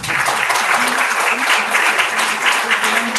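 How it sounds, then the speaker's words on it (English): A conference audience claps together in a dense, steady round of applause that carries loudly and evenly throughout, with no gaps. "I want you to clap aloud."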